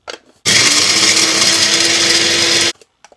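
A kitchen mixer grinder whirs loudly and steadily for about two seconds while grinding mutton masala spice powder, starting and stopping abruptly, with no talking over it.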